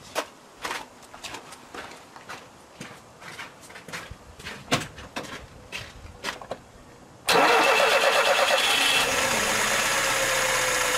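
A car engine cranks over with irregular bursts of clicks and starter noise, then catches and settles into a loud, steady idle that runs to the end, close up, with no talking.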